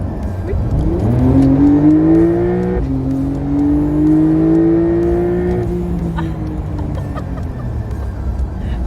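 A 2021 Porsche 911 S accelerates hard, its engine note climbing steadily and loudly. Two gear changes briefly drop the pitch before it rises again, with a faint background hum throughout.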